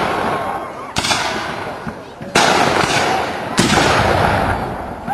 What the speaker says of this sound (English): The cannons are firing each other